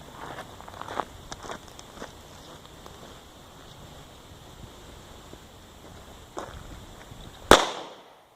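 A single shot from an HK USP Compact LEM pistol cracks sharply near the end, loud and close, after a stretch of faint footsteps and shuffling at an outdoor range; the report rings off briefly.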